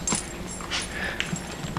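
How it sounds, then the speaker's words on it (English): A dog at home on Thanksgiving makes brief, soft sounds like panting and faint whimpers, close by and fairly quiet, with no talking. "And there's the dog."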